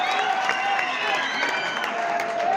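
Crowd applause at a village kabaddi match between Pal Nagar and Indore, a steady clapping roar with cheering and an announcer's voice running over it.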